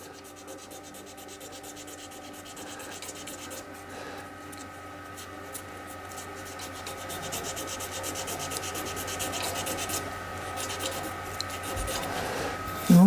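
An epoxy resin shaving brush handle is dry sanded by hand with a continuous scratchy rubbing that grows gradually louder, close up, with no talking.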